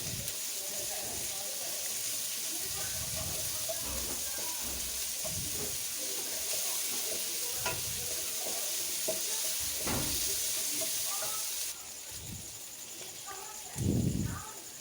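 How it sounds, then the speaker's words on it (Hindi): Onions with ginger and garlic paste fry in a pan for Punjabi kari pakora, a continuous sizzling hiss broken by scraping stirs and clinks, with a louder knock near the end. "हल्का सा फ्राई कर लेंगे।"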